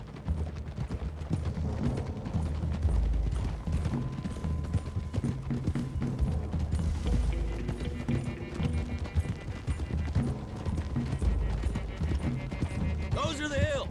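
Horses ride in the Red Dead Redemption video game, with continuous hoof clip-clop and occasional whinnies beneath characters' voices, a rattle of tack and rising music.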